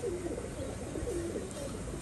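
Pigeons kept at a loft coo in soft, low, rolling calls that repeat continuously against a steady background hiss.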